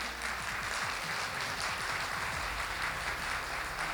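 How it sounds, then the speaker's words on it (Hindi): An audience claps for Modicare at a Hindi direct-selling seminar, a steady, dense wash of applause lasting the whole stretch with no break. "एक बार जबरदस्त तालियां चाहूंगा मोदी केयर के लिए"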